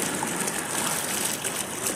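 Steady rush of a flowing stream, a continuous bright trickling and splashing hiss close by, with no voices.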